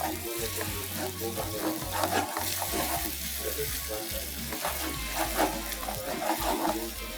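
A pan fries with a constant close sizzle, broken by clinks and scrapes of stirring, while a low electrical hum runs on and off underneath.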